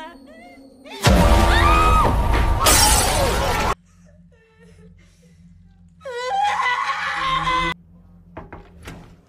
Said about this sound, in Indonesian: membuat Rose terjatuh ke belakang menimpa meja kaca, yang membuat lengannya terluka parah.